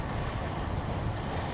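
Wind roars steadily across the microphone as a bicycle rides into a headwind in winter along the Han River, a dense, constant, close buffeting with no pauses.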